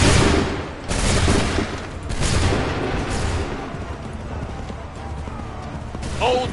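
Musket volleys from Assassin's Creed 3 fire on command in a battlefield setting, several loud, crackling bursts several seconds apart over a busy din of troops, horses and shouted orders.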